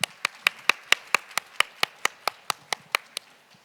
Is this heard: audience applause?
yes